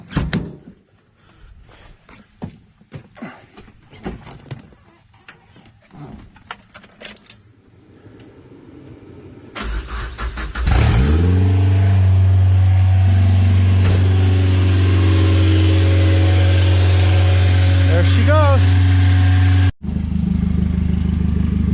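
A Geo Tracker with a swapped 2.0 engine, first keys jangling and clattering close by, then the engine cranks, catches and runs at a loud, steady high idle, cutting out briefly before resuming.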